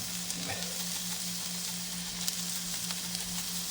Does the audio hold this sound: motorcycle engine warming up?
no